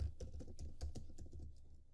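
Rapid, irregular keystrokes on a computer keyboard while code is entered, a close, quiet clatter of a dozen or so clicks with no talking.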